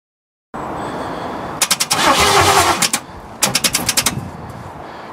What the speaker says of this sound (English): Well, it turns over.